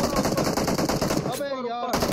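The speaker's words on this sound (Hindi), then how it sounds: "अबे भाई ऊपर से मार रहा है बंदा" Rapid machine gun fire in the mobile battle game PUBG Mobile rattles in a dense, loud burst, pauses briefly, then resumes, with a voice faintly talking underneath.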